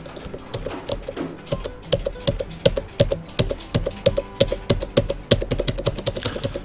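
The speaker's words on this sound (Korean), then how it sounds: "다시 컨트롤 Z 눌러서 원위치 시키겠습니다." Keys on a computer keyboard being pressed during CAD modelling work, including an undo shortcut, make a steady run of close, crisp clicks and taps with no talk.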